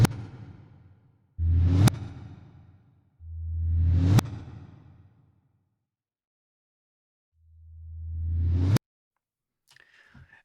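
Three reversed hammer-percussion hits from the Spitfire Audio Hammers library, each swelling up from silence to an abrupt cutoff in a steady eighth-note-style pattern, with a faint fragment trailing at the end.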